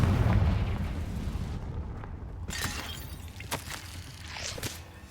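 A Confringo blasting spell explodes in the Hogwarts Legacy video game: a heavy, booming blast opens loudly and rumbles off, followed by scattered sharp debris cracks and smaller impacts.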